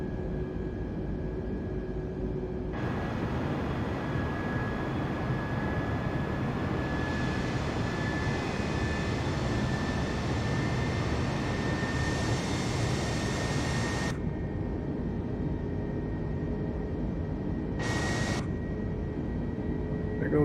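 Airbus A320neo engines roar steadily while climbing out of Miami in Microsoft Flight Simulator 2020. The jet drone is loud and unbroken throughout, with no voices over it.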